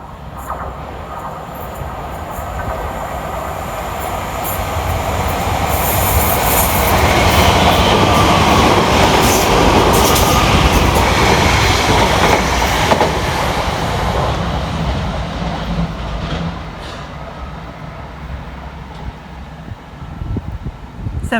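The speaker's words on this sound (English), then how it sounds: "Next up for Greater Anglia on the fast line, 2K12 from London Liverpool Street through to Southend Victoria." A Greater Anglia train passes on the fast line of the Great Eastern Main Line, roaring up loudly, peaking midway with rushing wheel noise, then gradually fading as it moves away.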